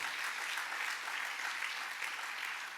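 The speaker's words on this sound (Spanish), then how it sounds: "Dale un buen aplauso de alabanza a mi rey" Sustained applause from a large church congregation, dense and even throughout, heard from a moderate distance.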